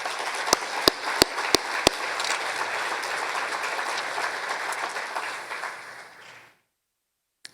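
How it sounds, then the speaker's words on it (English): A crowd at the Cass County Electric annual meeting applauds the cooperative's linemen with steady, full clapping and a few sharp early claps, then stops abruptly, leaving near silence. "So give a round of applause for our linemen."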